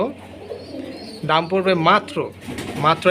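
A pigeon's low, throaty cooing repeats in short bursts, close by, against a quiet background; a colored fancy pigeon of army, high-flyer type.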